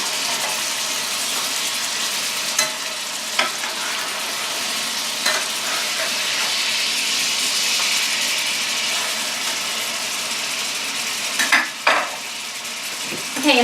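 Salisbury steak patties frying in a pan give a steady broadband sizzle throughout, with a few sharp clicks and scrapes as the patties are turned near the end.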